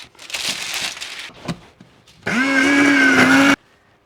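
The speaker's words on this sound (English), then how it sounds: "Now on to grinding up the other 10 eggs" After some rustling and a couple of knocks, a blender roars to life for just over a second, grinding dried eggs into powder with a steady high whine, loud and close, then stops abruptly.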